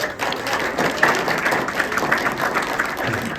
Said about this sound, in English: Let's have a huge round of applause for those people